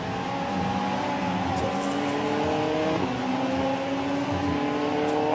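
Radical racing cars at speed on the Barcelona circuit during a European Masters race, engines droning and shifting in pitch continuously as several cars pass, loud and steady with no talk.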